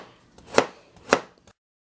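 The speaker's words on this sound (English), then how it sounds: "I'm going to cut up 2 carrots." Two crisp knife chops through carrots on a cutting board, spaced about half a second apart, close and clear with a faint tap trailing after, then silence.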